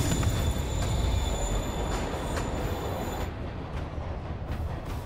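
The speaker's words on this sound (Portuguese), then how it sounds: "O trem está indo." A train departs from a platform in a Spider-Man video game, a loud continuous rumble of rolling wheels with high squealing tones that cut off partway, leaving the rumble running alone.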